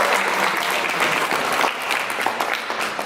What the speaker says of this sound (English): Please, can you clap for her?